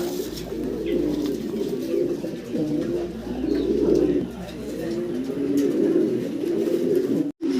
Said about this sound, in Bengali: এক জোড়া বাইরের কাছে ব্ল্যাক পমিনিয়ান পটার কবুতর আছে